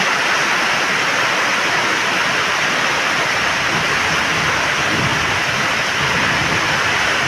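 Strong floodwater rushes over a road in a continuous, loud, broadband roar that stays steady throughout with no pauses.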